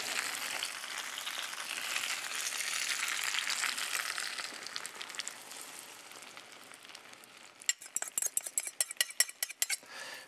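Eggs cook in a pan on the stovetop with a soft steady frying hiss, followed by a run of sharp metallic clinks and scrapes of utensil against pan near the end.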